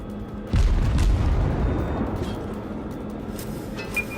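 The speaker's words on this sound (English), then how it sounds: "Let's just drop some torpedoes so it'll make them hopefully divert their course a little." A torpedo explosion in the naval combat game World of Warships, heard as a loud deep boom that hits suddenly and then rumbles on in a sustained low roar without clear speech.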